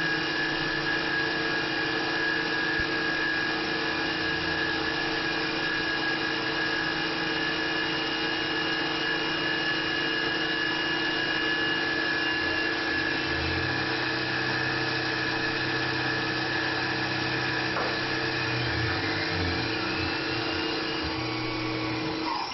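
A Tormach PCNC 1100 CNC mill machines the outer profile of a part, giving a steady, close, continuous whine of spindle and cutter with a constant broadband hum and no talking.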